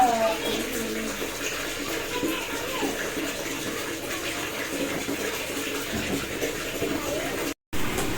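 Water running from a tap while a child is bathed, a steady close gush and splash that continues throughout, with a voice and adult talk faintly over it and a brief cut near the end.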